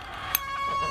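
Backyard chickens clucking close by, a steady mix of soft clucks with one sharp brief squawk early on.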